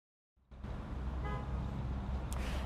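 Road traffic rumbles outside a Supervisor of Elections office in Orange County on Election Day. It starts abruptly after a brief silence, holds as a steady low roar and carries a short horn toot near the end.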